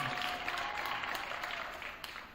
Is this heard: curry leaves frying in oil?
no